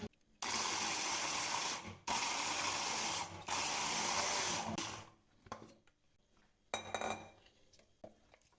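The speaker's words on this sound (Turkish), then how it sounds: "Bir miktarda kıyma koyup bu az malzemeyle birlikte rondodan geçireceğim şimdi." A food processor minces ground meat with bread and spices for Izmir köfte, in three loud whirring bursts separated by short pauses, then softer clattering and a brief final pulse.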